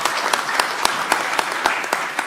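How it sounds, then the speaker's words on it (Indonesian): Dense, steady applause from a large audience at a party gathering, greeting Muhammad Mardiono, chairman of the United Development Party. It runs close and continuous, with sharper bursts of clapping rising through it. "Kita berikan tepuk tangan yang meriah buat beliau."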